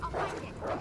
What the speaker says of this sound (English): I hear dogs.